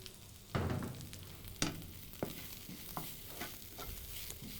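Spices with sliced chilies cook in a little oil in a pan for soy samosa filling, a soft sizzle broken by several distinct stirring scrapes and taps at irregular intervals.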